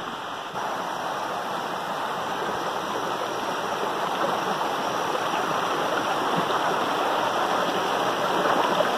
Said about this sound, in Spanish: Lindo de cruzar el río.